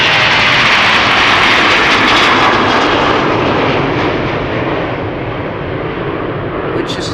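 A Transavia airliner departs Amsterdam Schiphol bound for Sharm el Sheikh, producing a loud, close, sustained jet-engine roar that slowly eases over the final seconds.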